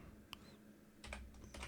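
Faint, close taps from a computer keyboard come in short clustered runs of keystrokes after a brief pause, with a low steady hum underneath and no speech.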